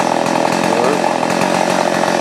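A chainsaw roars steadily and loudly while felling melaleuca trees in a rubber plantation, the engine held at high revs without pause.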